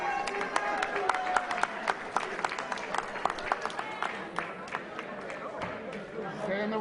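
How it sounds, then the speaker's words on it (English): A crowd at a boxing match applauds after a fight involving Tevin Farmer, with sharp scattered claps and crowd noise, close and fairly loud, under voices in the arena. "how about a big round of applause for Tevin Farmer"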